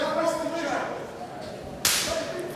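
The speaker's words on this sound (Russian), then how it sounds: "Сейчас прямо звучный такой лоу получился." A low kick lands on an opponent's leg in a fight, one sharp, loud slap cracking out over crowd and arena noise.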